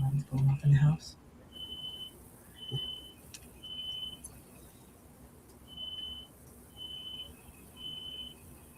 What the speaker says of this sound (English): Oh, it's a smoke detector.